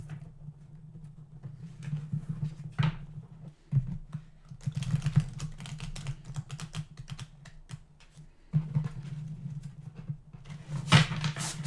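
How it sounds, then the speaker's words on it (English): Soft repeated riffling and tapping of tarot cards being shuffled, in several short bursts separated by pauses, over a steady low hum. "let's give it a couple of shuffles."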